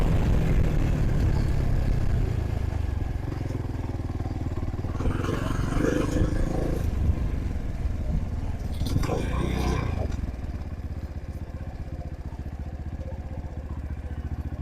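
A Trailmaster TM31 bike engine idles close by with a steady low putter and rumble, while a voice talks intermittently over it.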